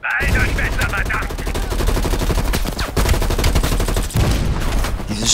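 Anti-aircraft gun firing in the video game Call of Duty Black Ops Cold War, a loud, dense run of rapid automatic bursts that carries on without pause, with battle noise mixed in.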